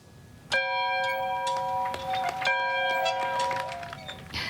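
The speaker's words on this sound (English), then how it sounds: "The bell rang this morning at Jefferson Elementary" An elementary school bell rings out on the first day of school in a quick series of bright, overlapping strikes, its tones sustaining and layering into a loud, steady clangor with no voices.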